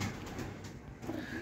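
A white Sialkoti female high-flyer pigeon in Lahore gives a faint, soft, low coo close by, quiet and alone, with no talk.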